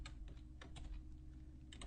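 Quiet typing on a computer keyboard: a quick run of soft keystroke clicks in irregular bursts over a low background hum, with no voices.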